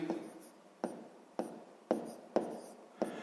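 A pen strokes out a subtraction step of a sixth-grade math exercise on paper, giving six crisp, evenly spaced scratches up close, each fading quickly, with no speech.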